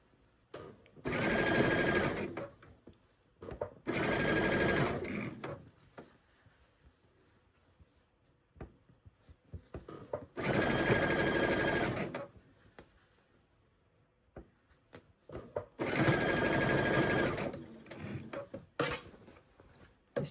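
A sewing machine stitches the seams of a sweater's replacement sleeves in four loud, close bursts of rapid whirring stitching, separated by quiet gaps filled with fabric handling and small clicks.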